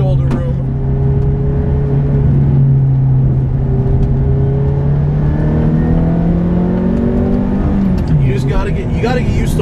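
A manual Ferrari F430 V8 wound up high from inside the cabin, its engine note climbing steadily through the rev range over several seconds before dropping off near the end, loud and close.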